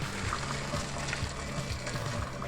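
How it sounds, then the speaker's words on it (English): Boiling pasta water poured from a pot into a sink, a steady close gushing pour with a low rumbling splash throughout. "Safety first when draining pots of boiling water."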